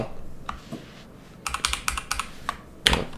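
Close typing on a computer keyboard during 3D rendering work, a few scattered key taps followed by a quicker run of crisp clicks and one sharper final stroke.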